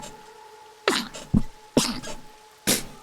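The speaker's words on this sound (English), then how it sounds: "I had to sneeze." A person sneezing, four sharp bursts with gaps between them, loud and close against a quiet background hum.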